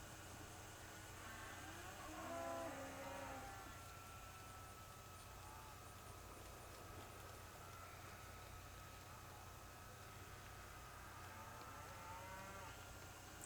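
Cattle being moved out of a pen give a few low moos, one louder call early and fainter ones later, over a steady low hum of engine or machinery.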